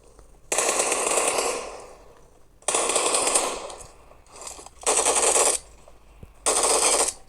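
Automatic M4 rifle fire in a video game: five loud, sustained bursts of rapid shots separated by brief pauses, with no talking.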